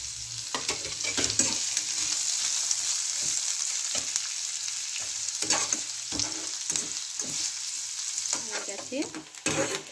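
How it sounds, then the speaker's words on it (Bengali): Large-cut onions fry in hot oil in a pan, a bright sizzle punctuated by repeated spatula strokes scraping and stirring at an uneven rhythm, close and loud. "পেঁয়াজ কেটে রেখেছিল বড় বড়, দিয়ে দিচ্ছি। পেঁয়াজটাকে ভেজে নেব।"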